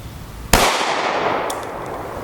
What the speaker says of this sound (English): we're going to take a second shot with the Phoenix and try to capture the round